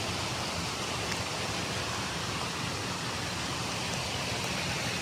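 Floodwater rushes through a hollow after 11 inches of rain, a loud, steady, broad roar of churning water with no other sounds.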